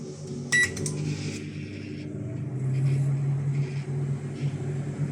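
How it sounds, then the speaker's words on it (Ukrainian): A microwave oven switched on gives a steady low mechanical hum that holds throughout, with a brief sharp click or beep near the start; no voices are heard. "Вмикаю мікрохвильовку."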